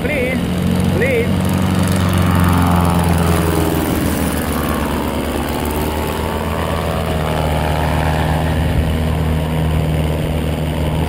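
Motorized hang glider engine held under throttle: a loud, steady buzzing drone that runs close and unbroken throughout, with a voice speaking over it.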